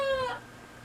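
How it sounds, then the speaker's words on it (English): A young rooster attempts a crow, a brief, strained, rising cry under a second long that trails off abruptly, close and fairly loud. "He's learning to crow."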